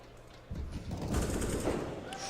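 Burst of AK rifle gunfire in a Counter-Strike match on the Mirage map, a dense crackling rattle that starts suddenly and holds steady for about two seconds.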